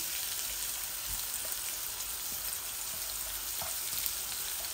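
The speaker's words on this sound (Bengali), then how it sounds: "আস্তে আস্তে এটা ভাজা ভাজা হোক" Steady, dense sizzle of food frying in hot oil, constant and fairly close, with a few faint ticks and pops scattered through it.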